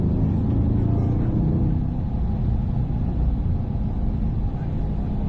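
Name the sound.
Corvette C8 accelerating on a race track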